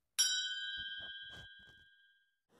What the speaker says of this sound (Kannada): ಬೆಲ್ ಬಟನ್ನ ಕ್ಲಿಕ್ ಮಾಡಿ